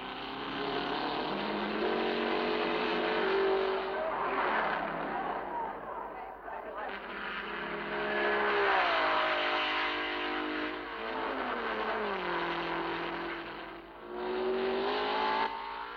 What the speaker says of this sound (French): La voici donc, cette voiture de tête, la Ferrari numéro 14 de Hill, Jean Debien.